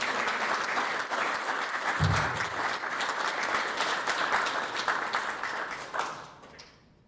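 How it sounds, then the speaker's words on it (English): Audience at a Rotary club gathering applauding with dense, steady clapping that holds at even loudness, then thins and fades away in the final second. "let's give you a big round of applause"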